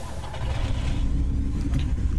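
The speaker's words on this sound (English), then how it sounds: "Honestly, that car is badass." The Batmobile's engine revs in a Batman video game, a loud, dense, rumbling roar that holds steady throughout with no voices.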